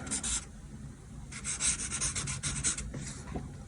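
Marker strokes rubbing across paper while sketching sitting poses, in two main bursts of quick scratchy back-and-forth lines with short pauses, close and fairly quiet.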